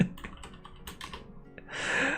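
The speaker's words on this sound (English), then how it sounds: "why am I so bad at typing?" Rapid clicking of fingers typing on a computer keyboard indoors, a quick run of close, light key taps that ends in a brief louder rustling burst.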